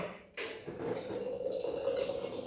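Water drains from the radiator of a Ferguson TE20 tractor during engine repair, a steady trickling splash running continuously at close range.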